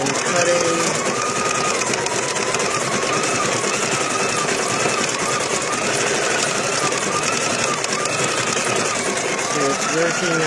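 Sewing machine stitching the ears of a pillow, a loud continuous rapid mechanical rattle running unbroken from start to finish.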